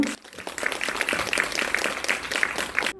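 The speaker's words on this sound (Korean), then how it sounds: "큰 박수 부탁드릴게요" An audience at a youth center talk held in a cinema hall in Ulsan bursts into applause, dense continuous clapping that starts abruptly and cuts off at the end.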